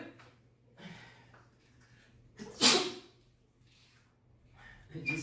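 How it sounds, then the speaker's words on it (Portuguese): A single sharp human sneeze bursts out loudly in a quiet indoor room, preceded and followed by soft breathing and faint rustling. "Desculpa, não é Covid, só um espirro mesmo."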